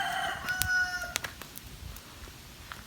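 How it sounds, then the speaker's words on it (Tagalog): Chickens and a rooster outdoors: a harmonic crowing call rises briefly, then sharp chirps and faint clucks scatter over a quiet rural background. "May mga manok."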